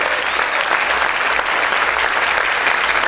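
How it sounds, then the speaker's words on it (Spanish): Many hands clap hard and fast throughout as a congregation applauds the Lord at a church service, a thick, loud, unbroken wash of applause from start to end. "Aplaude fuerte al Señor."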